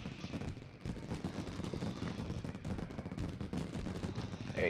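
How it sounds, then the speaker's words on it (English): Fireworks bursting in the card game Hearthstone, a dense continuous crackle of rapid pops and booms filling the whole stretch, loud and steady with a brighter whistle near the end. "Wow, all these fireworks, I could sit here and watch them for days."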